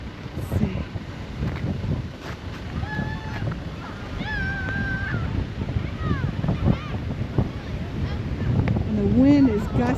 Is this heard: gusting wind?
yes